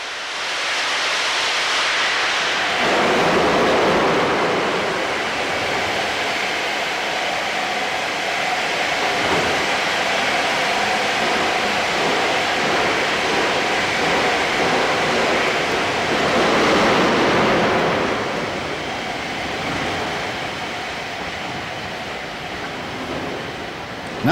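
The Mallard steam locomotive climbs Saunderton Bank on a London duty from Marylebone, giving a loud, continuous rushing roar that swells near the start and again around the middle, with no voices.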